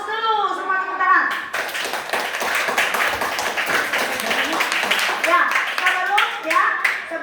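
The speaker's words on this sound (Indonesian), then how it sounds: "Kita beri aplaus dulu, semua tepuk tangan." A classroom of children claps together after a student coding presentation, a burst of hand claps that carries on steadily for several seconds while kids' voices chatter over it.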